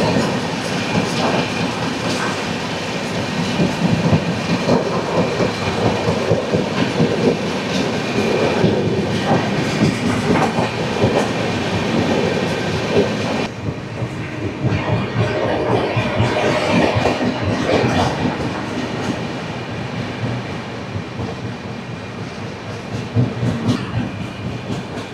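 A Poorva Express passenger train running on the line between Howrah and Delhi, its wheels clattering steadily over the rail joints in a loud, continuous rumble with no pauses.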